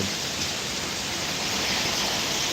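Steady heavy rain pours down during the fasting month, a dense continuous hiss close by with no voices over it.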